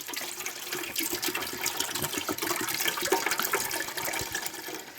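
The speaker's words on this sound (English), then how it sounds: "We are going to empty 1 quart of beef broth into the well of that slow cooker." A quart of beef broth splashes into the well of a slow cooker in a home kitchen, a steady close pouring gush with bubbling splashes, no talking.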